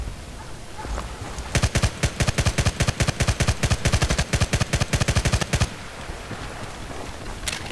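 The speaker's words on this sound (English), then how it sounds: "Now we're going to move on to close quarter tap firing." A nerfed MG36/QBB-95 light machine gun in the video game Battlefield Play4Free fires in rapid, evenly spaced short bursts, a loud, crisp string of about thirty shots over four seconds, then stops to quiet ambience.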